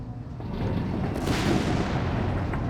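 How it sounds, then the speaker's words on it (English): Artillery fire in a World War II strategy video game rumbles as a dense, booming barrage, loud and sustained for a few seconds with a sharper crack near the middle. "Artillery fire further complicating the match there."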